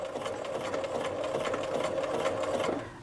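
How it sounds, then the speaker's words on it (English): A sewing machine runs steadily, stitching a seam on a knit dress made from a Simplicity 9011 pattern, a close continuous whirring hum that winds down near the end. "I'm going to roll my needle down and just start stitching"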